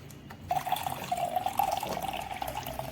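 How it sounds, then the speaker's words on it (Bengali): Tap water running steadily into a container in a home kitchen, a continuous close hiss and splash with slight gurgling variation, heard alone without talk. "তো এখন আমি জল ভর্তি করে নিচ্ছি"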